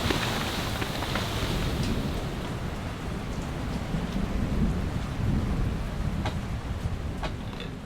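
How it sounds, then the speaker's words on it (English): Steady heavy rain pours down on a boat with a deep rumbling wash of thunder and 20 to 35 knot wind running throughout, no voices. "Rainstorm, squall, storm, whatever you want to call it, is over temporarily."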